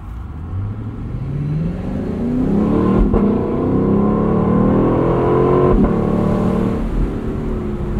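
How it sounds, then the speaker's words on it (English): A Lexus LC 500 convertible's V8 engine revs up steadily from inside the car, its deep rumble climbing in pitch through the gears, loud and close. "What else has a V8 that sounds like that now?"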